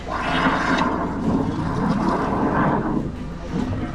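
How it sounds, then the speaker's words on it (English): A jet rodder pulling water and debris back through a blocked stormwater drain, a loud continuous rushing, roaring gush of water and pressure noise, steady throughout with a slight drop near the end. "So you can see I'm pulling all that water back, along with a lot of debris."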